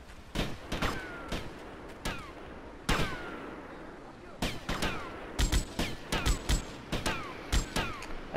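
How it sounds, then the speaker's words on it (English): Gunfire in Grand Theft Auto Vice City crackles in a long irregular volley of sharp shots, some single and some in quick clusters, close and punchy over a low rumbling background, with ricochet-like whines trailing several hits. "they're shooting at me"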